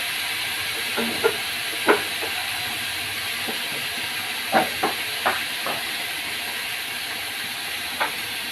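Green chilies dropped into a hot pan for a cauliflower mash, giving a steady hiss of frying with a handful of sharp crackles and pops scattered across it; nobody talks.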